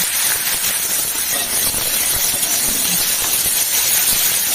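Onions and tomatoes frying in a pan with dried red chillies for a Bengali mutton curry, a steady loud hiss and sizzle with faint crackle throughout, no talk.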